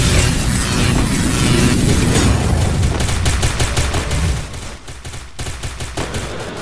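MP40 submachine gun fire in Free Fire's CS mode, loud rapid automatic bursts with sharp repeated cracks over dense game background noise, strongest in the second half.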